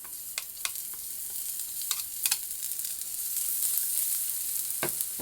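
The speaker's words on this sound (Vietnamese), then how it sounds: "Dầu sôi rồi mình sẽ cho vài tép tỏi băm nhuyễn vô." Minced garlic fries in hot olive oil in a pan, giving a soft, continuous sizzle broken by scattered sharp pops and crackles that grow a little denser toward the end; no one speaks.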